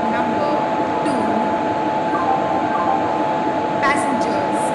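A video game railway platform where the Deccan Odyssey Special Express waits, with a steady loud rumbling hum, a constant tonal drone and occasional faint clinks. A station announcement voice talks over it.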